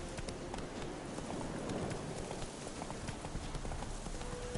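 Horse hooves clip-clopping at a steady trot in The Witcher 3, a continuous rapid rhythm throughout, moderately quiet and mixed with ambient game sound.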